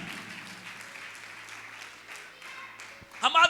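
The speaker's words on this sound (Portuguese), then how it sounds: "Vamos aplaudir o Senhor" A church congregation claps together during a worship service, a steady wash of applause that swells louder near the end.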